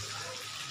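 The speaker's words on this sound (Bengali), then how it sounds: "এই মশলাটার মধ্যে দেখো একটু জল দিয়ে দিচ্ছি।" Water is poured into a spice paste while cooking a potato and pointed gourd curry with Gobindobhog rice, giving a brief, soft splashing gush.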